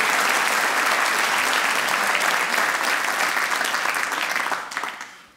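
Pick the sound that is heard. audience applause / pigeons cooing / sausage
audience applause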